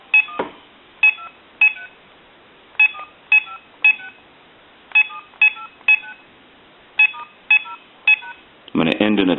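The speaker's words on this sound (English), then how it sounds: "We're going to go ahead and dial our numbers" Telephone keypad DTMF tones from an AT&T 5515 cordless telephone beep in short, evenly spaced dual-pitched bursts, about a dozen presses, followed by a brief loud burst of noise at the end.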